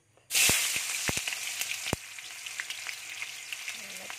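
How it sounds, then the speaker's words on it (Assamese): Chopped onions dropped into hot oil in a pan for an Assamese chicken curry, bursting into a loud sudden sizzle that settles into steady crackling frying, with a few sharp pops and spoon knocks near the start. "এতিয়া মোৰ তেল গৰম হৈ আছে যিহেতু, সেইটো কাৰণে ইয়াত মই ধুনীয়াকৈ পিঁয়াজখিনি দি ল'ম"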